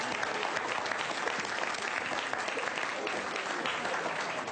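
Sustained audience applause at a political speech, dense and steady, filling the room evenly throughout with no talk over it.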